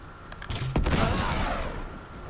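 A burst of gunfire in Uncharted 3: Drake's Deception, a sharp loud shot followed by a ringing, echoing tail in an open game scene, no voices.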